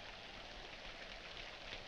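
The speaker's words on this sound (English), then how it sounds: "Yes, in this rain." Steady rain falls outside at night, a faint, even hiss of drops on surfaces with no voices, continuous and distant throughout the short stretch.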